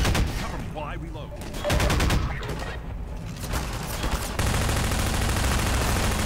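Rapid automatic gunfire from a Half-Life 2 combat scene crackles in repeated bursts, loud and close, with brief pauses between volleys and a denser, sustained stretch of shooting near the end.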